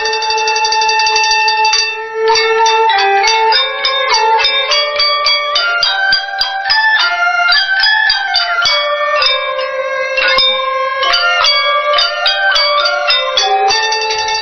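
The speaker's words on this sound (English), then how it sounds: "porcelain bowls, bells, drums, flutes, and chimes" Porcelain bells and chimes from a transparently glazed porcelain orchestra in Jingdezhen play a continuous bright melody, with ringing struck tones layered in quick overlapping notes, loud and steady throughout.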